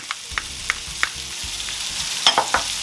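Chopped garlic frying in a pan while being stirred, a soft close sizzle under a series of regular scraping and tapping strokes, about eight in quick succession, with no talk.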